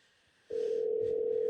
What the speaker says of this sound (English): Phones are ringing.